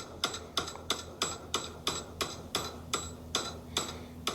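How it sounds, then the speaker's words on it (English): Mountain bike grips and bar repeatedly smacked against a tree, giving about eleven sharp, evenly spaced knocks roughly every 0.35 seconds, moderately loud and close with no talking. "you can see here their own video where they're smacking it against a tree"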